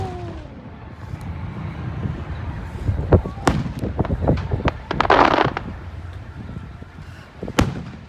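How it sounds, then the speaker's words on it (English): Fireworks go off outdoors at a family display, with sharp cracks and booms scattered through the clip and a crackling burst in the middle, some fairly distant; people talk and react over the blasts. "These are some cool fireworks."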